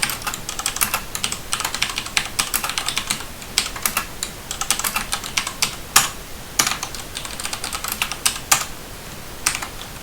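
Steady rapid typing on a computer keyboard running on a Solus 1.1 system, a continuous close patter of key clicks with a few harder, louder strokes throughout.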